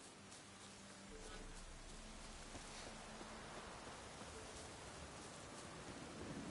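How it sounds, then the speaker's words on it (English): Steady, dense rain hisses evenly throughout in the video game The Witcher 3, a continuous wash of falling drops with no voices. "That's because it is raining."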